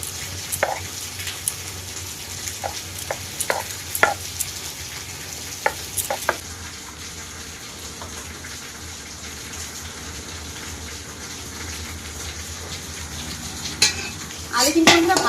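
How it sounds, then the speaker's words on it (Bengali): Potatoes with salt and turmeric fry in a wok with a soft continuous sizzle, while sporadic metallic clinks and scrapes of a spatula against the pan sound close by, growing busier near the end. "আলু বন্ধুরা কড়াইতে ভাজা বসিয়ে দিয়েছি, একটু নুন হলুদ দেবো"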